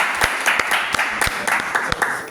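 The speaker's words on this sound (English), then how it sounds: "give a round of applause for Lamar Ingram" An audience applauds a guest named Lamar Ingram at a business event, a steady wash of clapping from many hands with a few sharper nearby claps standing out throughout.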